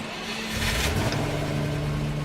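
Truck engine idling steadily in the off-road driving game Snowrunner, a continuous low drone with a slight rise in revs partway through, heard alone over a rainy ambience.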